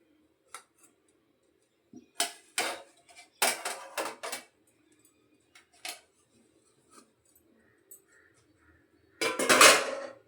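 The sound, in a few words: semolina puttu being transferred to a plate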